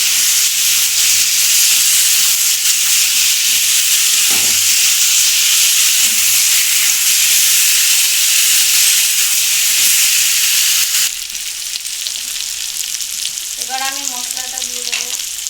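Spiced potato curry sautéing in a pan, a loud, steady hissing sizzle close up with stirring clatter, easing slightly toward the end, where a brief voice is heard.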